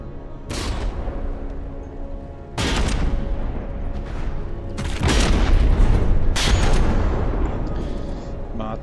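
Naval gunfire in a warship video game, several loud sharp booms spaced seconds apart over a constant low engine rumble, with a voice talking.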